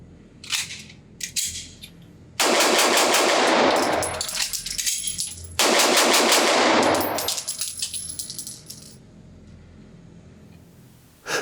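Sig Sauer P320 XFive Legion pistol fired through two five-round magazines: two loud bursts of rapid close shots with a pause between them, plus quieter handling clicks before and after.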